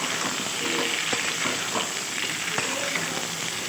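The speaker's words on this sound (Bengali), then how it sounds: "আলুর দমটা আমি জিরে ফোড়ন দিয়ে আলুগুলো ভাজতে দিয়ে দিয়েছি" Potatoes fry in a wok over a cumin tempering, giving a steady close sizzle with occasional faint stirring clicks throughout.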